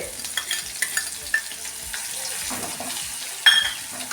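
Green chilies and beans sizzle and fry in a pan while a spoon stirs them, with scraping clinks and a steady crackling hiss close by.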